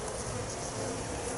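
Honeybees buzz in a dense, steady drone during a hive inspection, close and continuous with no talk.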